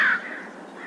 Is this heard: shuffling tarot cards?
no